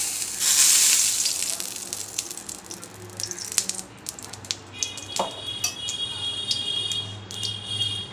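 Oil heating in a kadai, a soft sizzle with metallic clinks of utensils and a brief high-pitched whine, no talking.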